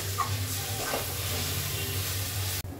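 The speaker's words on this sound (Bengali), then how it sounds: "তো দেখো এখানে এটা কষছে" Chicken masala with tomato frying in a pan, a steady close sizzle and hiss with faint stirring scrapes, continuous until an abrupt cut at the end.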